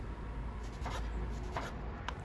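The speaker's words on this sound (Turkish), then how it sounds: "Büyük domateslerimi dilimler halinde kesiyorum." A knife slices firm, large tomatoes of mixed pink, yellow and green into rounds. It makes a few soft, quiet cutting strokes and scrapes close by, with no talk.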